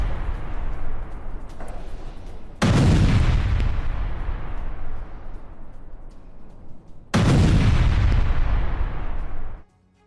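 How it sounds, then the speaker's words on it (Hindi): Two heavy booms from a military strike on an IRGC base, each a sudden loud blast that rumbles and fades away over several seconds, the second arriving about four seconds after the first and ending abruptly. "अमेरिकी फौज ने IRGC ठिकाने को उड़ाया है"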